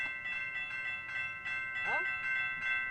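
Railroad crossing bells ring near a train in a quick, even run of repeated metallic dings, moderately loud and steady, while people talk over them.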